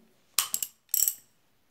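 A ratchet with a 17 socket tightens a nut on a motorcycle crankshaft, giving two short bursts of close, crisp clicking separated by a brief pause.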